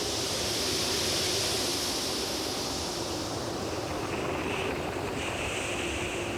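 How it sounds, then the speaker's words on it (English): Heavy surf from the open Southern Ocean, driven by consistent strong winds, roars as a dense, continuous wash of crashing water and wind, loud and steady throughout with no voices. "The combination of the sea's immense span and consistent winds make mountains of water."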